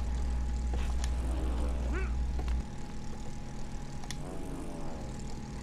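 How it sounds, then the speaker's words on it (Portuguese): Airplane engine in the co-op video game It Takes Two, a steady propeller drone that carries on throughout, louder and fuller in the first half, with faint game sound effects over it. "Eu vou pegar então um outro avião, então."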